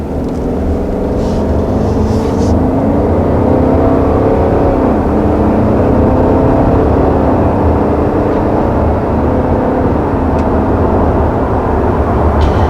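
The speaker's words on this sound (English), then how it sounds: "there's certainly nothing wrong with the way that this accelerates in the standard form" A 2020 Subaru Legacy accelerating toward highway speed, a steady, loud engine drone with rising tones and road roar heard from the cabin, with no talking.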